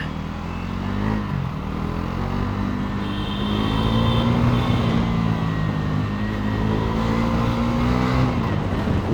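Bajaj Pulsar NS400Z motorcycle riding on city streets in JP Nagar, Bengaluru, its engine droning steadily with a rising and falling pitch as it accelerates, loud wind and road noise throughout.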